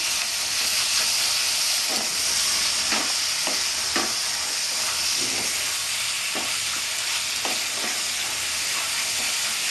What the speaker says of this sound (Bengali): এইভাবে আমি বেশ কিছুক্ষণ কষতে থাকবো